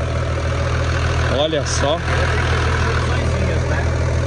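A 20-year-old Chevrolet Silverado truck engine idles close by with a steady, even low rumble, while a voice briefly speaks over it partway through.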